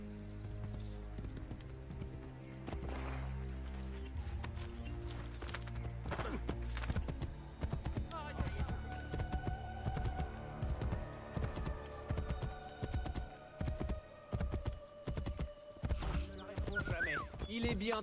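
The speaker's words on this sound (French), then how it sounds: "Allez, on appelle le cheval." A horse gallops with rhythmic clip-clop hooves and neighs in Assassin's Creed Brotherhood, set against game music and ambience, with a voice speaking over parts of it.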